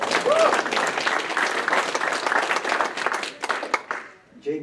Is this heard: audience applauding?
yes